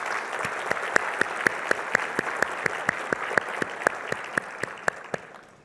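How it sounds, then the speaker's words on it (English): An audience at a Port of Long Beach morning event claps for elected and appointed officials, a dense sustained round of applause with a few sharp individual claps standing out near the front in a steady rhythm, tapering off at the end. "if we could just give a round of applause to all of our elected and appointed officials that are here this morning"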